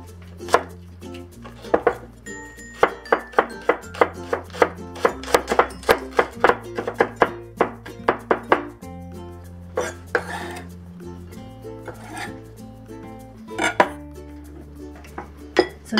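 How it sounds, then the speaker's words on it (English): A knife minces green onion on a cutting board in quick, close, rhythmic chops, bursts of sharp taps separated by brief pauses, with soft background music underneath. "next we'll give the green onion a quick mince"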